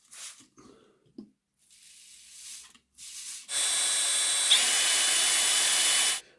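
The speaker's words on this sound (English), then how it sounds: "Just going to spray some water on this." After some faint shuffling and handling noises, a steady hiss of water spraying from a nozzle runs for a few seconds, close and fairly loud.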